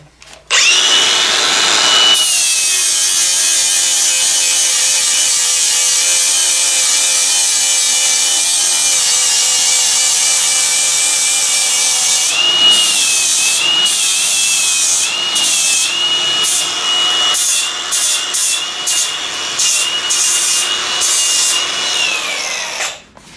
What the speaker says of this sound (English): So I'll go ahead and start grinding on this a little.